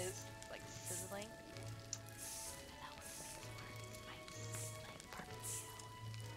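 Food sizzles and crackles steadily while cooking in Pokemon Shield, a soft continuous hiss with occasional pops under faint game music and chimes.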